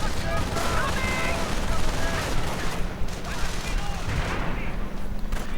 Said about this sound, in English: More mortar rounds fall.